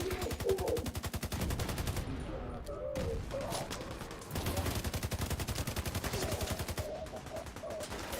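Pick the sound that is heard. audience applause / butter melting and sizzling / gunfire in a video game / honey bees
gunfire in a video game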